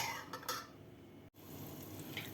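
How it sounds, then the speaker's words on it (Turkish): Sugar syrup for kadayif bubbles and sizzles in a pot on a home stove, a soft, steady crackling boil heard close up with one brief drop-out. "Şöyle şerbetim kaynamaya başladı."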